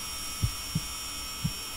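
Patient's heartbeat in the surgery video game Surgeon Simulator: four soft, low thumps spaced at an irregular, slow pulse over a steady faint hum, with no talking.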